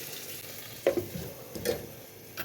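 A little oil poured over a hot coal in a kitchen gives a soft, steady sizzle with faint crackles, heard alone and close.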